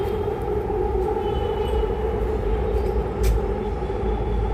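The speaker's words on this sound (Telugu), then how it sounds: "అదిగో ట్రైను" A train rumbles past near a home garden, a loud steady low roar with sustained tonal hum, close by and unbroken throughout.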